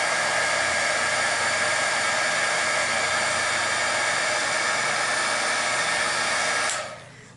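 A heat embossing tool blows hot air in a loud, steady whooshing roar for several seconds at close range, then cuts off and winds down at the end; no voices.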